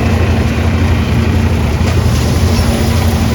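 An automatic peanut thresher driven by a tractor runs at a loud, steady level, with a continuous mechanical roar and a constant low engine hum and no break in the noise.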